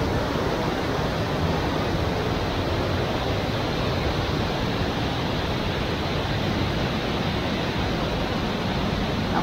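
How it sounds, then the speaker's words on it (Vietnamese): Water of the Lenin stream rushes steadily, a dense, continuous broadband wash with no pauses, loud and close, with no voices over it. "nghe nước suối"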